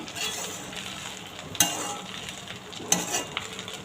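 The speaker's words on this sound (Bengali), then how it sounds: "একটু লো ফ্লেমে এটা ভেজে নেব" Rice tossed with turmeric frying on a low flame for lemon rice, a soft steady sizzle with two sharp spatula clanks against the pan and light stirring scrapes.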